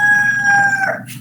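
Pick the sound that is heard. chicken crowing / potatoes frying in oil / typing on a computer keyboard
chicken crowing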